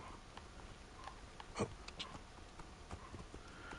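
Horse hooves clopping in Assassin's Creed Origins: Discovery Tour, a few soft, uneven hoof strikes at low level over quiet ambience, with one sharper knock near the middle.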